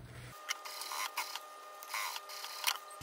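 A sewing machine stitches a school backpack panel, a fast close mechanical whirring and clatter with brief pauses and bursts as the fabric is fed.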